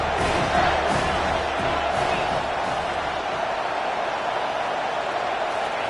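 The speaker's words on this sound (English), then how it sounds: "3rd down, and this crowd will blow out a vocal cord to help this defense." A football stadium crowd roars loudly and continuously on third down, a dense wall of cheering and yelling that holds steady and fades only slightly toward the end.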